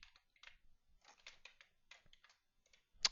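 Someone types a line of code on a computer keyboard in a quiet room: bursts of light, irregular key clicks, close and soft, ending with a sharper tap.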